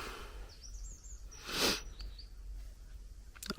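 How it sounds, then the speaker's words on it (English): Faint morning birdsong at a campsite at Ruta del Purche: a few soft, high chirps and short twittering phrases, distant and scattered, with a brief rustle partway through. "I woke up to the sound of birds"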